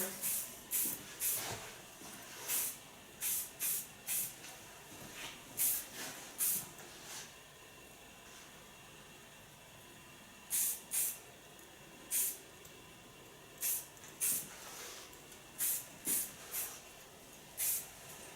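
Strong hairspray is sprayed onto a finished blonde hairstyle in short, close hissing bursts, some single and some in quick clusters, separated by quiet pauses.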